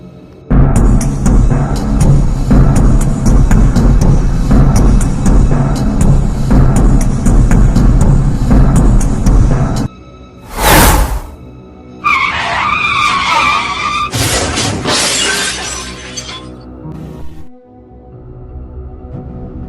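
A cartoon car approaches along a road with a loud, sustained engine roar and tire skid for about ten seconds, then a sharp whoosh and a short squealing, rattling burst before it fades.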